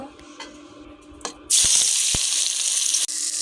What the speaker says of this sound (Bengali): কড়াইতে আমি আগে তেল দিয়ে দিয়েছি তেল আমার গরম হয়ে গেছে এখন মাছগুলো আমি ভেজে নেব